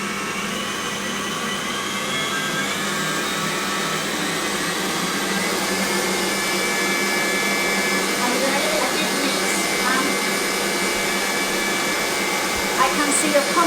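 An electric hand mixer beats a chocolate dessert mixture for a Marquesa de chocolate, whirring steadily and loudly without pause from start to finish, with no talk over it.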